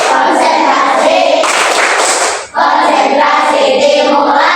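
A school class performs the rhythmic concentration clap together, a dense burst of many hands clapping close by with a brief pause midway before the clapping resumes.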